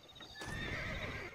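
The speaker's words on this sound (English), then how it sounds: "these horses are running free" Horses run free in the Red Dead Redemption video game, their hooves clip-clopping in a quick rhythm as a neigh rises over the galloping, moderately close with no talk.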